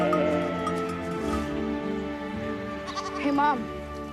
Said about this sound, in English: look at these goats here